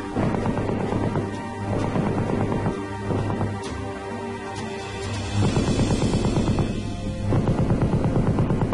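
An M60 7.62 mm machine gun, gas-operated, air-cooled and belt-fed, fires loud rapid bursts that run almost without a break, with short pauses between strings of shots.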